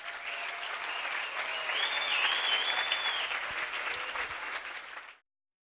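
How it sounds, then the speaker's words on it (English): Sustained audience applause for the actors after a school production of The Little Mermaid, a dense, even roar of clapping with a few faint whistles, ending abruptly. "So let's have a very, very big clap for the actors"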